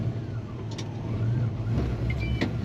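1972 Chevrolet C10 pickup pulling away in first gear at a roundabout, a steady low engine drone heard from inside the cab with faint road noise and a slight rise in pitch.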